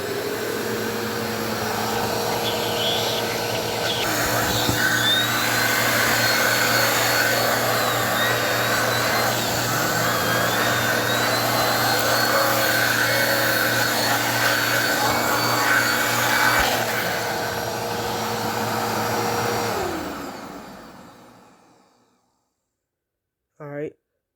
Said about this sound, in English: So we're going to start off with the Rewind, with the Helix Turbo